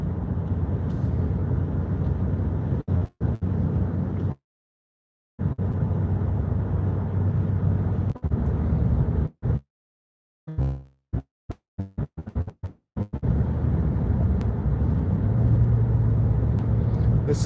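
A car driving home with a steady low engine and road rumble from inside the cabin, broken by several abrupt dropouts and clusters of short cuts, with no talk.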